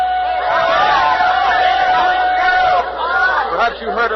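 A cheering, chattering crowd of a radio drama fills the scene at the run of the Tom Thumb locomotive, with loud continuous voices and whoops and a steady tone running through the first part.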